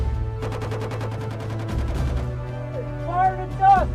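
Rapid bursts of machine gun fire from army gunnery training, a fast run of sharp shots in the first half, then a steady engine rumble with a radio voice speaking over it.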